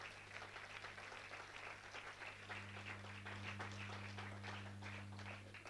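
A church congregation applauding, a steady dense patter of many hands held at low level over a constant electrical hum.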